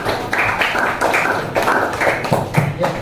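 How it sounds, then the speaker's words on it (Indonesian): A classroom of students in an Islamic religious education lesson claps together in a dense, steady burst of overlapping hand claps, fairly loud and close, with no speech over it. "Oke, beri tepuk tangan buat kita semua"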